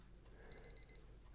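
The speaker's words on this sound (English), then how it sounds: "This is an auto repeat countdown timer." A Casio JP-100W vintage digital watch sounds its countdown timer alarm as four quick, bright electronic beep bursts in a steady rhythm, fairly faint and close, with no talking.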